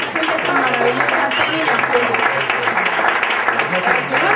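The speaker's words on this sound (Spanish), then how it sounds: "Gracias, Julia, un aplauso." Dense, steady applause from a concert audience at a live music performance, sustained at an even level with a few voices mixed in.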